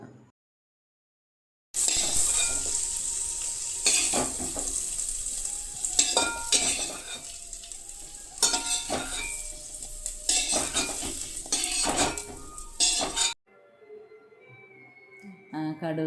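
Chopped gooseberries sautéed in sesame oil for a quick pickle, a steady sizzle broken by repeated scraping stirs of a spoon against the pan, close and fairly loud, stopping abruptly before a quieter tail.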